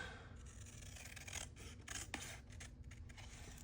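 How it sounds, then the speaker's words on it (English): Scissors cutting out craft cardstock, a steady close rasping and snipping that runs through the whole moment, with no speech. "I am going to cut it out."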